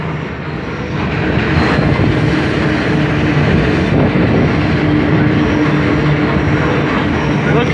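Long freight train rolling past at close range, a loud, steady rumble and clatter of wheels on rails that carries on without a break.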